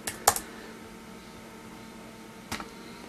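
A few quick clicks on a computer keyboard, heard while someone enters a name during iPod Touch setup on a Windows computer: a short burst near the start, then a single tap near the end, otherwise quiet.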